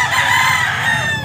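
Boston Roundhead roosters at a pet market crow loudly and close by in one brief, sustained call.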